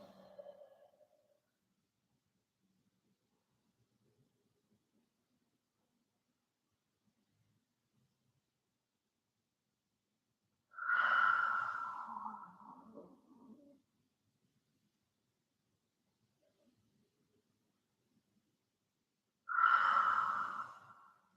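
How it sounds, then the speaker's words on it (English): Two slow, deep breaths stand out in a quiet yin yoga session, each a soft rush lasting a couple of seconds and spaced well apart in near silence, with a faint murmur at the very start; no one speaks. "Breathe a lot."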